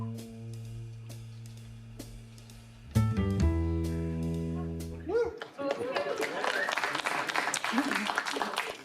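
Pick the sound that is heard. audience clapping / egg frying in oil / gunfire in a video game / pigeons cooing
audience clapping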